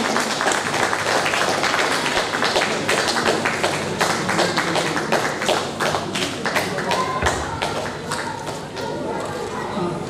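Audience clapping at a Hindi-language welcome gathering: dense, sustained applause of many hands, steady and fairly loud throughout, with scattered sharper claps and a faint murmur of voices underneath.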